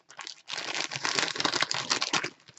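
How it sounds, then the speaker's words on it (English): Crinkly wrapping is pulled and crumpled while a gift is unwrapped, a dense, close, continuous rustling and crackling that lasts about two seconds. "unwrap this, and I'm going to try to do it off camera because I don't want to do the noise and the crinkling"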